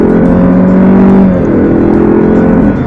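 A 2020 Alfa Romeo Stelvio's 280 hp engine revs steadily in dynamic mode, a loud, close, sustained droning hum that holds, dips slightly and settles, sounding somewhat flat, with no talking.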